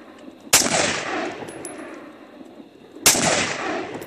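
Two loud, close gunshots from an MSAR STG-556 bullpup rifle fired at a range, a couple of seconds apart, each with a sharp crack and a ringing tail.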